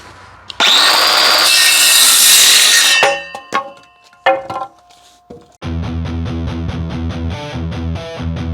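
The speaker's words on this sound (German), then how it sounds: "jetzt müssen wir das Ganze erstmal sägen und dann sägen wir weiter" Wood being sawn to build shooting target frames: a loud, close burst of continuous cutting, then a few clattering knocks and scrapes, followed by another steady run of buzzing, droning tool noise.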